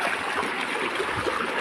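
Clear river water flowing steadily over stones on the Castillejos River in Zambales, a continuous close rushing and gurgling with no break.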